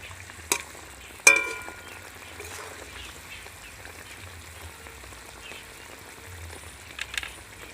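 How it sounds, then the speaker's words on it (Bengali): Doi katla, a yogurt-based catla fish curry, being stirred with whole green chillies: a soft, quiet sizzle with gentle scraping and a few sharp utensil clinks near the start and end. "কাঁচা লঙ্কাটা দিয়ে এবার আমি ভালো করে নেড়ে নেব।"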